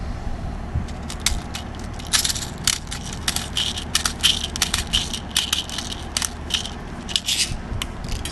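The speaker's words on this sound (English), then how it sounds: "so this is the speed loader for it." An airsoft speed loader pushes rounds into a GHK AK gas-blowback rifle magazine, producing dense, close, rapid metallic clicking and rattling throughout.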